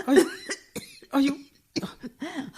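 Coughing in a Malayalam radio drama, a run of harsh, close coughing fits broken by short pauses, with strained throaty voice sounds between the bursts.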